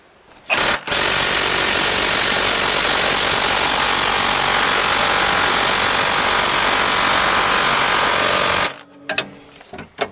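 Impact wrench hammering on a rusted axle nut of a BMW E91, a loud continuous rattling burst lasting about eight seconds and then cutting off abruptly.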